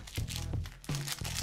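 Plastic packaging of a Minions surprise toy crinkles and crackles up close as it is torn open, a continuous rustling with a few sharper crunches.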